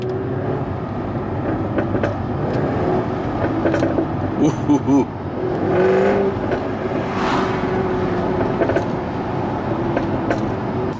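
A Jaguar F-Type R engine rumbles nearby, then rises through sharp revving bursts and throaty swells, with a man whooping in excitement over the exhaust noise.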